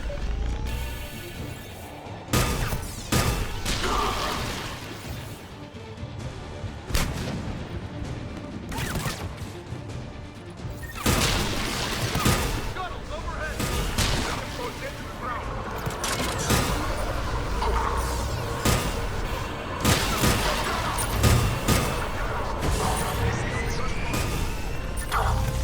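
Heavy gunfire from a mounted gun in the video game Mass Effect 3, loud sustained bursts and sharp impacts running throughout, under game speech and battle noise.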